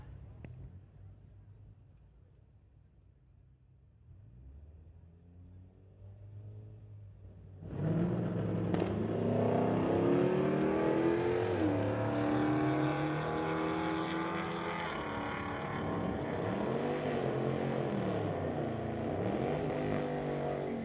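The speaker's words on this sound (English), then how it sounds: "James Duff on the pit side, 1994 Toyota from Mission. Going against the Chevelle on the spectator side." Drag race launch between a 1994 Toyota and a Chevelle at a street-legal strip: a low idle rumble, then at about eight seconds engines explode into loud, sustained roaring, revving and climbing in pitch as the cars pull away.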